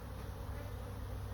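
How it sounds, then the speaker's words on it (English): Honeybees from three packages buzzing around a new beehive during a first spring inspection, a steady dense drone close by with no break. "3 packages of bees, and last year I only had 1 package, so I'm not used to this many bees anyway."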